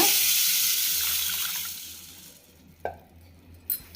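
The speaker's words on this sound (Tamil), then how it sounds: "கழுவி தண்ணி இருத்துட்டு புதுசாக தண்ணி ஊற்றிடுங்க" Water pours into a bowl of soaked mung beans with a bright splashing rush that tapers off, followed by a couple of sharp clinks in the quiet.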